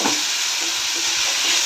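Pasta frying with sweet corn in refined oil in a home kitchen pan: a continuous loud, bright sizzle and hiss with faint stirring underneath, no voices.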